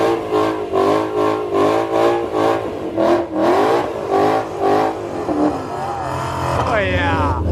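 Chevrolet Camaro ZL1 and Ford GT500 on street tires, street racing: loud engines roar and rev in repeated pulses, then one engine note climbs sharply near the end, with voices talking over it.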